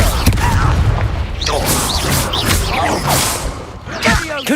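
Fiery Confringo blasting spells from Hogwarts Legacy burst in repeated booming explosions with whooshing tails, mixed with combat noise and a voice shouting over the action.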